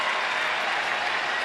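A big Orioles baseball crowd at a stadium cheers and applauds steadily for Matt Wieters, a dense, continuous roar of clapping and voices that holds at an even level throughout.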